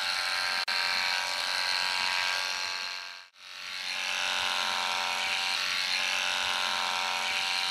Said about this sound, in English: Your horse gets a little bit nervous about the clippers coming up towards his eye.